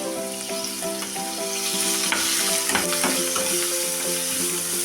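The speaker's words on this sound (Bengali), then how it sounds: "এখন আমি এই যে ভাত চিংড়িগুলো এগুলোকে আমি ভেজে দেবো" Small shrimp sizzling in hot oil with garlic and green chillies, a continuous crackling hiss with occasional stirring scrapes, close and steady throughout.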